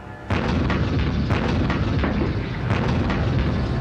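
Tank guns fire on command during a battle scene, a dense, continuous barrage of loud booming blasts with repeated sharp reports rolling over one another without pause.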